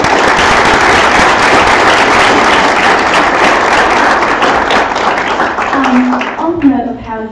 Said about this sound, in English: I'd like to give our speakers another round of applause.